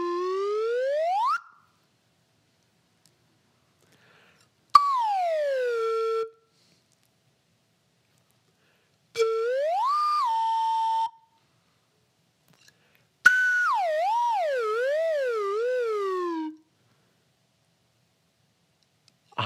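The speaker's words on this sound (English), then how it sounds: "I'm going to play my real slide whistle first" Slide whistle played in a kindergarten music lesson: four separate clear sliding tones, some rising, some falling, one wavering up and down, each a second or two long with silent gaps between, close and alone.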